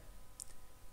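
A single sharp, faint computer mouse click sits over a quiet room background.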